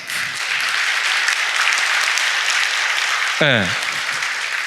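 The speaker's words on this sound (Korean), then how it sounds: "우리 아기 엄마들에게 박수 한번" A church congregation applauds the young mothers during a Sunday service, a sustained wash of clapping throughout, with a brief spoken word from a man near the end.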